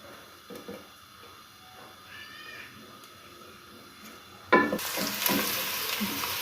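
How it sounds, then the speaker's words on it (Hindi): Onion and garlic hitting hot oil in a pot, a sudden loud sizzle that bursts in after a few seconds of quiet kitchen handling sounds and then holds steady, close by. "सबसे पहले मैं एक देगची में डालूंगी ऑयल कुकिंग और इसके साथ ही प्याज और लहसुन।"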